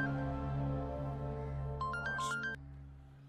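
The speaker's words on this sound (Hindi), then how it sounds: "किसका फोन है भाई?" A mobile phone ringtone in a television drama scene plays a short run of bright electronic tones over a steady, sustained musical bed, then stops.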